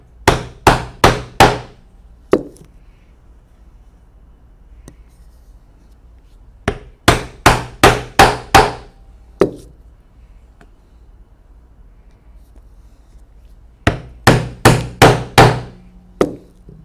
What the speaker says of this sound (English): I'm going to use a round drive punch and go all the way through all the thicknesses of the leather